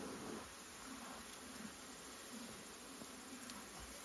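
Honey bees buzz around hive frames during a beekeeping inspection in Canada, a soft continuous drone of many insects at low level without speech.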